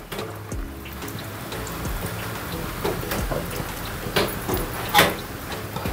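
Tamarind water is poured into a cooking pan for a prawn and brinjal curry on a gas stove, making a steady close-up splashing, rain-like rush with a few louder splashes near the end and no voices.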